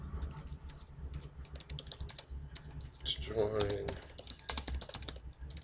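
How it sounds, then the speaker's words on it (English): Computer keyboard typing, a steady patter of rapid keystrokes throughout, close and clear, with a person speaking over part of it. "I'm just going to type this in"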